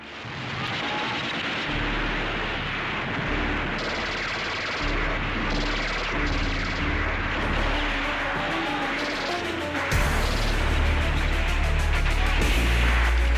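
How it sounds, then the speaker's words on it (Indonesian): Dense wartime gunfire effect for a dramatized account of a dawn attack against Dutch forces in Indonesia, with sustained loud rattling shots and heavy booms layered throughout, no pauses. "Suara tembakan terdengar di mana-mana."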